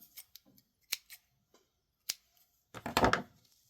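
Scissors snip tassel thread with a few separate sharp clicks, then a short cluster of quick, louder cuts near the end, close up and with no talking.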